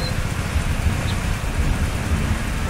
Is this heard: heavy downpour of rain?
yes